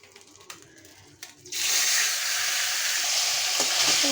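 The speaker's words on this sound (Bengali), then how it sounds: "উল্টে পাল্টিয়ে মাথাটা ভালো করে ভাজে নেব।" Silver carp fish head frying in oil in a pan, a loud steady sizzle that starts abruptly and continues without pause, with faint clatter beforehand.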